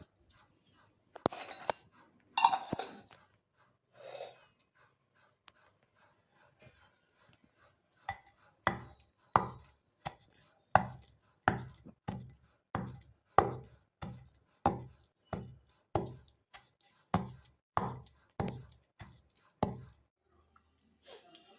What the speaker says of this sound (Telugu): ఇలా మళ్ళీ కొంచెం అన్నీ కొంచెం మెత్తగా అయ్యేదాకా ఇలా దంచుకోవాలి